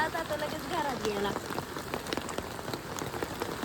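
Rain falls steadily on surfaces close by, a dense patter of drops with sharper individual taps, while a faint whistling tone sounds briefly near the start.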